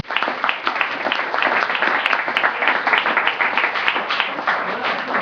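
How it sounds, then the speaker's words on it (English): A room full of people at a local candidate forum claps for the candidates, a dense, sustained round of applause with sharp individual hand claps standing out, fairly close and loud from start to finish. "Let's give them another round of applause."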